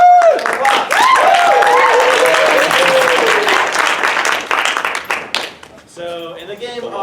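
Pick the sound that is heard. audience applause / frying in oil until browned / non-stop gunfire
audience applause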